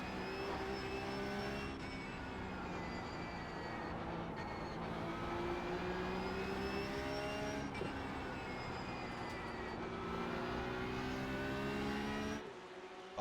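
A Porsche 911 Cup (992.2) race car howls around Suzuka in a racing video game, its engine revving hard and climbing through gears with sharp shift breaks every few seconds, loud and continuous.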